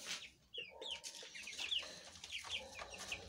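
Hens cluck and squawk inside a henhouse, with several birds calling in short, overlapping bursts close by and a steady murmur of clucking between the louder cries.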